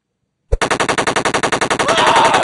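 Rapid machine-gun fire in a Lego Batman animation: a sharp onset followed by a fast, evenly spaced burst of loud shots that blurs into a continuous roar, close and with no talk.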